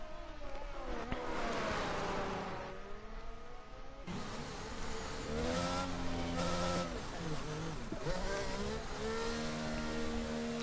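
Ferrari race car engine on a qualifying lap in a racing video game, a sustained loud whine with rising and falling harmonics as it revs through gears, with engine tones throughout.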